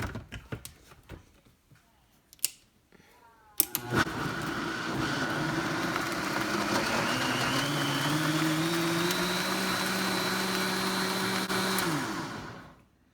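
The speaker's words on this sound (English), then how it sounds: "we're going to add that to the blender now" A few knocks and clatters, then a blender blending homemade Mexican salsa starts and whirs loudly and steadily for about eight seconds, its pitch shifting slightly before it winds down.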